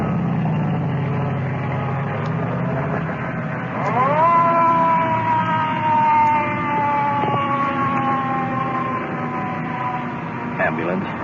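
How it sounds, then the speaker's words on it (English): An ambulance siren wails through traffic, its rising and falling tone sliding downward as it pulls away, over a steady rumble of passing cars. "Ambulance disappearing in the traffic."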